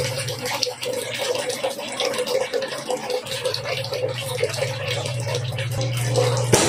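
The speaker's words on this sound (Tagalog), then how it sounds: "I-drain natin ng tubig." Water draining steadily out of a tank during a float switch test, a continuous loud rushing and splashing flow with a low hum underneath, holding steady throughout.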